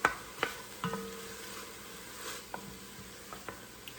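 Greens sauté quietly in a pot, giving off a soft, low sizzle. A few sharp clinks and scrapes from stirring break in now and then, with no talking.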